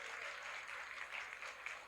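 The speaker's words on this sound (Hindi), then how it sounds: "जोरदार तालियों से अभिनंदन देते हैं" Faint applause rises from an audience gathered for a spiritual family-harmony class, a soft, even patter of many hands heard from a distance for a brief moment.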